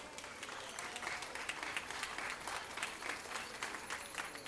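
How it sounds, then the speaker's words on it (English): A crowd at a Christmas celebration on a campus applauds steadily, a dense wash of clapping held at an even level throughout, heard from a distance and fairly faint. "If everybody give them a round of applause, please."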